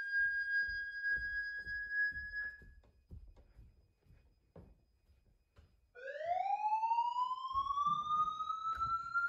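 A vintage Honeywell alarm system sounding during a test, starting with a steady high-pitched tone that cuts off, then a loud rising electronic siren sweep, with no speech.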